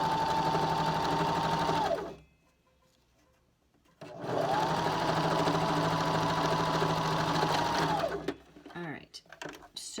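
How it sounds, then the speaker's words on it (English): Sewing machine stitching a fabric seam, running in two steady whirring bursts of about two and four seconds separated by a short pause, close and loud, ending with a few clicks and rustles. "I'm going to sew my seam the rest of the way down"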